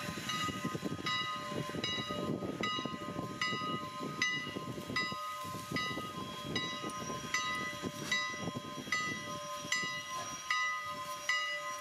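Strasburg Rail Road steam locomotive Number 90 running in retro livery, with a steady rhythmic chuffing and clanking cadence under a sustained whistle-like tone, heard from moderate distance and fairly quiet.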